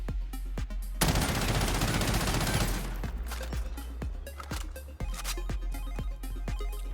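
QBZ assault rifle from the Cold War arsenal firing in the video game Warzone: a long sustained full-auto burst, then rapid spaced single shots and short bursts, loud and sharp throughout with no talking.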